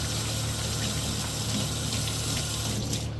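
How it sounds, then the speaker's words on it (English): Water runs steadily from a tap as a Datsun 240Z gauge part is rinsed, making a continuous close splashing gush with a low hum beneath, alone without talk. "Give it a good rinse"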